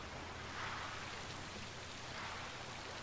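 Rain falling in the video game Just Cause: a soft, even hiss of steady rainfall with faint pattering, quiet and unbroken for the few seconds.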